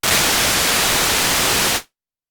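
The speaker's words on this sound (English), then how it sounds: "We have white noise" White noise from a CorOS mono synth: a steady, loud hiss across the whole range, held evenly for under two seconds and then stopping cleanly.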